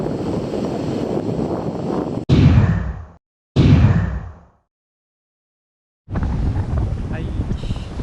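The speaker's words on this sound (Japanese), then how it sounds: "今日は南西の風が今結構吹いてきてます" A strong southwest wind batters the microphone while windsurfing, with loud gusty roaring that cuts out abruptly twice, leaving a long silence before the buffeting resumes.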